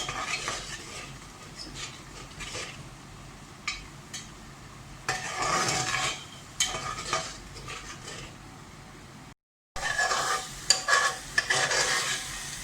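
Onions with ginger garlic paste and added spices frying in oil in a pot, a soft steady sizzle broken by scraping stirs and clinks of a utensil against the pan, close by, no talk.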